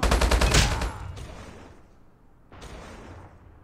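Short burst of HBRa3 assault rifle tap firing in Call of Duty Mobile, a dense cluster of rapid shots in the first second, then a decaying tail and a fainter second burst.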